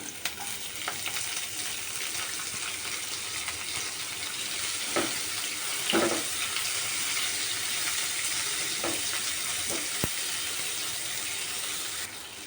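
Chopped onion sizzling steadily in hot oil in a pan, a continuous loud frying hiss with occasional stirring clinks and scrapes, no voices.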